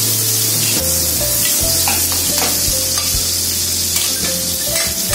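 Onions hit a hot pan for Chinese-style stir-fried water spinach, setting off a loud, continuous sizzle with bursts of spitting and a low steady hum underneath, close up and with no talking.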